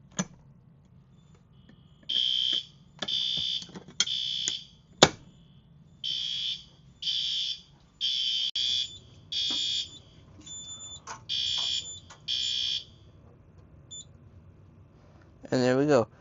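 An Edwards EST fire alarm sounds after a pull station test, blaring in repeated loud horn bursts about a second apart with a short pause in the middle, ending as the system is silenced.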